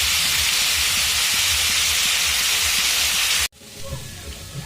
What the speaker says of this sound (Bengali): এবার আলুগুলোকে আমি আগে ভেজে নেব।